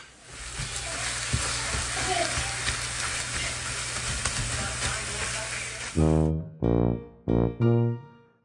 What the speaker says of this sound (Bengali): ডিমগুলোকে খুব ভালো করে ঝুরি করে নিতে হবে, অনেক ভাজা ভাজা করতে হবে